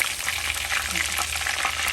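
Spiced chicken pieces sizzle in a pan for a chicken roast, a steady, soft crackling hiss that continues without a break.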